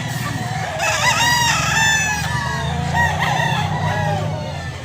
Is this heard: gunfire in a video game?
no